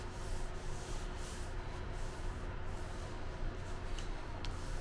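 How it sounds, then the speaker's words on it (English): Hands rub leather handbag pieces to press them together, making a quiet continuous dry rubbing and brushing sound with no voices. "I will use my roller. I will rub with my hands."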